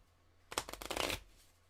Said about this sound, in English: Got to shuffle a fun deck.